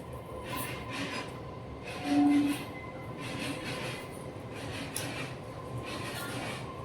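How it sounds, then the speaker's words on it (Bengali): A train rumbles past at a moderate distance with rhythmic clattering and a brief squeal, steady and fairly faint. "ট্রেনটা যাচ্ছে"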